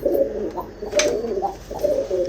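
Ferozpuri pigeons cooing in repeated low, throaty bursts, close and clear with no voices over them.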